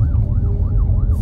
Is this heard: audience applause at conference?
no